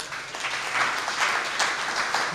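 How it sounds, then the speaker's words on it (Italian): Audience applause at a CNA Macerata assembly greeting Secretary Sergio Silvestrini, a steady, moderately distant patter of clapping across the room that holds evenly for a couple of seconds. "Sergio Silvestrini, a cui tributiamo un applauso"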